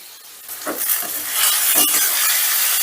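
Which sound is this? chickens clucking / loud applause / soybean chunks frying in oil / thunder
soybean chunks frying in oil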